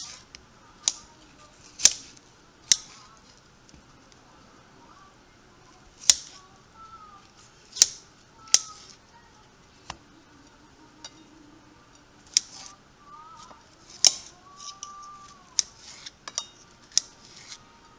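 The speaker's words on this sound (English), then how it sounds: "So this is one of the bigger red beets here, and it was already peeled. So it's getting cut up here." Knife chopping a large peeled red beet, sharp crisp cuts landing one at a time at irregular intervals, close and fairly quiet.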